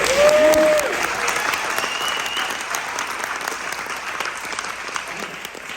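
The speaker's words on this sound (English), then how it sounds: "about the cheapest applause I've ever gotten" Audience applause breaks out at a talk by a 90-year-old writer, a broad steady clatter of clapping that holds from start to finish, with a brief voice rising over it at the very beginning.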